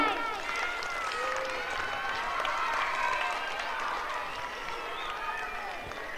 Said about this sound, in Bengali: সৃজার জন্য জোরে একটা করতালি চাই।